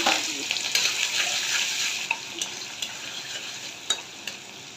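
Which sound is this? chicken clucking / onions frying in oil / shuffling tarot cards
onions frying in oil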